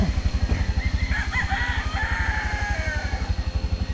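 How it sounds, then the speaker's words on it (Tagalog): Chickens and a rooster crowing nearby, loud and continuous, with overlapping clucks and long crows over a steady low engine-like rumble. "Grabe yung mga manok."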